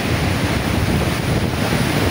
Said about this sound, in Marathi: समुद्राची स्थिती आता खूप खवळलेली आहे आणि किती मोठ्या प्रमाणामध्ये लाटा सर्व आता